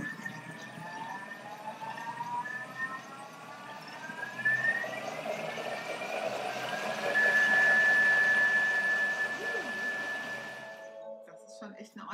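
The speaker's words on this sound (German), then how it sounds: "Ich gehe jetzt einmal auf 6 und fange dann auch an, hoch zu drehen. Und die Suppe wird jetzt komplett püriert." A Thermomix TM6 blends soup at speed 6. Its motor whine rises steadily in pitch as it speeds up, then holds a loud high whir before cutting off. A voice talks over it.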